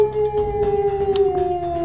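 A human voice imitates a wolf howl: one long, sustained, slowly falling howl, loud and close, heard alone.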